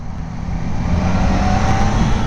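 A 2025 Triumph Daytona motorcycle engine in sports mode, a loud steady close roar that swells slightly as it holds, with no talk.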